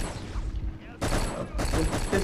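Bursts of M16 assault rifle fire from the PS2 shooter Black, loud sustained volleys starting around the one-second mark and again after a brief pause, with game ambience and a voice underneath.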